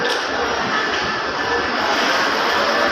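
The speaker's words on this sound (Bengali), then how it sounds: "ট্রেন আসলো" A train arrives at a platform of Dhaka Kamalapur railway station, giving a loud, steady rumble and rolling drone close by, with no talk over it.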